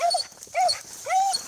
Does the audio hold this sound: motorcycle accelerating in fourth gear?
no